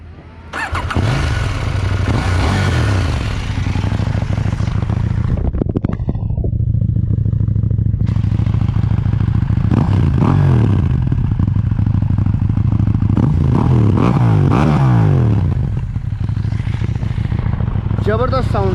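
A KTM 790 Duke motorcycle idles and revs hard, its exhaust booming loud and close throughout with repeated rising and falling throttle blips, while a person talks over the engine.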